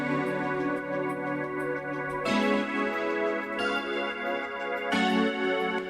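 Layered synth chords in a pop chorus, spread wide left and right around a centered main chord part, sustain as a dense, full pad with chord changes every second or so.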